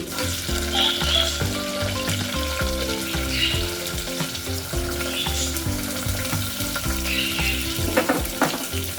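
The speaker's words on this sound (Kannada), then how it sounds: "ಈರುಳ್ಳಿನ ಚೆನ್ನಾಗಿ ಫ್ರೈ ಮಾಡಿ ಕೆಂಪು ಬಣ್ಣ ಬರೋರು ಚೆನ್ನಾಗಿ ಫ್ರೈ ಮಾಡಿ" Chopped onions frying in a hot pan for Karnataka-style vangi bath, a steady dense sizzle with occasional stirring scrapes, loud and close throughout with a faint music bed underneath.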